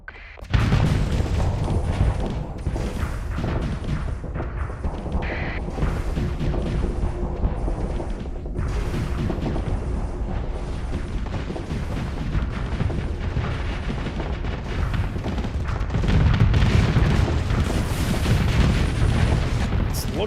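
Starsector ship weapons fire automatically in a sustained, dense barrage of booms and bursts, loud and continuous for the whole stretch, swelling briefly near the end.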